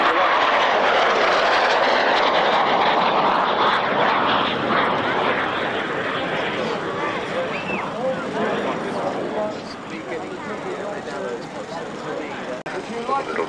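A small jet aeroplane flies past at the 1999 North Weald airshow, a loud, broad roaring wash that swells and slowly fades over several seconds, with a voice talking over it.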